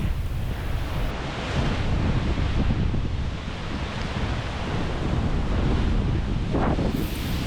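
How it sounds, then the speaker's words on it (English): Ocean surf on the Oregon coast along Highway 101 roars as a continuous loud wash of breaking waves, heavily buffeted by wind noise on the microphone, with no voices. "The surf literally just went up, and this is what you have to watch."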